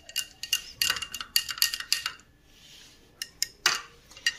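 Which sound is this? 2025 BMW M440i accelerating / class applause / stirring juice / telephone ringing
stirring juice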